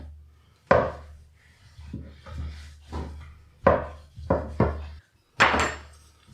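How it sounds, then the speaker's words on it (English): Pastry dough for individual pork and apple pies is rolled out thin with a rolling pin, giving a series of woody thumps and rumbling rolling strokes with short pauses in between. "Grab more dough and roll it out thin."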